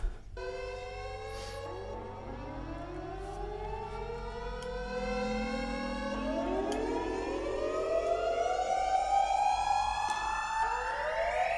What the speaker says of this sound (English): this synth effect happens in the pre-chorus, and this is like a bunch of rises happening at the same time